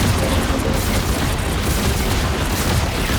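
Bombs going off in the video game Marvel Rivals, a dense, loud and continuous barrage of booming blasts with no gaps between them.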